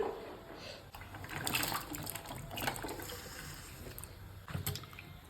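Chopped vegetables drop into a pot of water for a village-style Pongal vegetable kootu, giving several soft splashes and wet plops that recur through the clip at a moderate, close level, with no talking.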